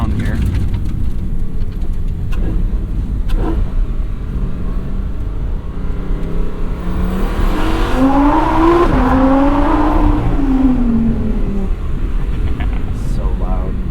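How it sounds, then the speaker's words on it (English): A 2022 Lamborghini Huracan V10 drives with the windows down, its engine and exhaust roaring loudly and steadily, with a rising and falling rev sweep near the end and faint talk mixed in. "this sounds better with the V10 sound. Yeah. And you hear more exhaust with this car"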